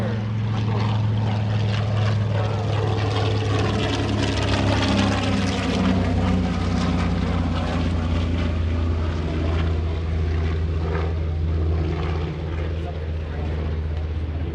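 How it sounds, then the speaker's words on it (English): TBM Avenger warplane with a 1,900-horsepower radial engine making a photo pass at an airshow, a loud, steady propeller drone that holds strong throughout, with a faint voice underneath. "Photo pass on the TBM Avenger."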